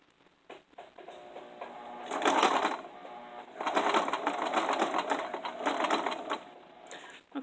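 A home sewing machine stitches fabric up close, running in two long whirring bursts with a short pause between them, with a few light clicks before and after.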